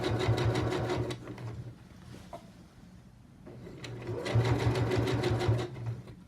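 A sewing machine stitches along a jeans hem in two bursts of steady, rapid needle chatter separated by a quieter pause, close and fairly loud.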